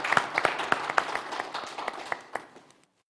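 A small academic panel audience applauding the speakers: brisk, scattered clapping from a modest crowd that thins and fades to silence within about three seconds.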